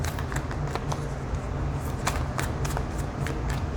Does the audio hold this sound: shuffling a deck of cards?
yes